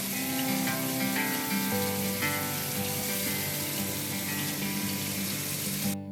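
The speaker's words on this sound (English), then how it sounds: "Now let's rinse it off." Running tap water rinses a cinnamon and cane sugar skin scrub off, a steady close rushing hiss that lasts throughout over soft tonal background music and stops abruptly at the end.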